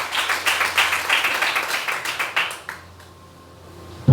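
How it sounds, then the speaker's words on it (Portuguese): A church congregation clapping during a teaching service, a loud run of quick, rhythmic handclaps that stops abruptly, leaving near-silence. "Levante a mão, diga amém e aplauda Jesus aí forte"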